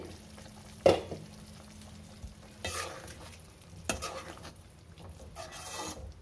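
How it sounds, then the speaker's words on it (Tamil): Paneer butter masala sauce bubbles and sizzles in a pan, with a steady simmering hiss broken by a few loud scraping stirs. "எப்படி நல்லா கொதிக்குதுன்னு பாருங்கள்."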